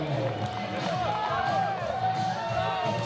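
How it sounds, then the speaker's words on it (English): A baseball crowd cheers throughout at a home run derby, a steady distant roar mixed with whistles and shouts. "you hear the crowd give it up to Chris Monroe."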